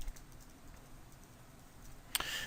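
Quiet, quick clicking of keys on a computer keyboard, a soft burst of typing close by, ending in a sharper tap.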